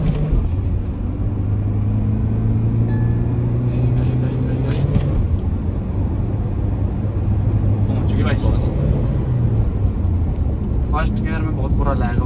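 A Mahindra XUV300 launching from 3000 rpm for a 0-100 acceleration run, with a loud, steady engine roar and rising drone throughout and a voice talking over it.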